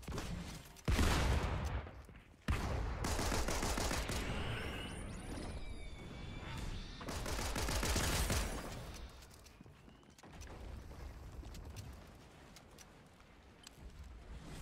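Bursts of rapid video game gunfire, loud and close, with whooshing effects and no speech.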